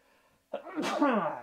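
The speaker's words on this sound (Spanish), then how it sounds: "Voy a estornudar." A single close, loud human sneeze, a brief inhaled catch followed by a forceful burst that trails off, after a moment of near silence.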